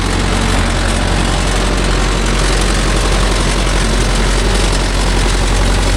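A Mahindra Yuvo Tech Plus 585 4WD DI tractor engine runs loud and steady nearby, a dense unbroken diesel roar with no pauses or voices.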